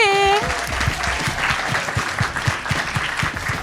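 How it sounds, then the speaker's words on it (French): Scattered applause for a performer from a small audience, with individual claps audible after a brief sung or sustained voice at the start. "On peut l'applaudir."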